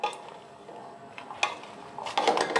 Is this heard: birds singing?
no